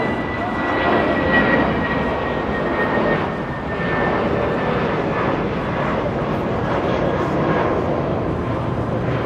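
A Spirit Airlines Airbus A320 jet at Los Angeles International Airport gives a steady, loud broadband roar with a faint high whine, holding fairly even throughout, heard alone without talk.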